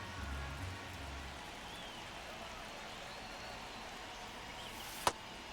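Rain falls on a baseball field in MLB The Show 25 as a steady, soft hiss throughout, broken near the end by one sharp knock.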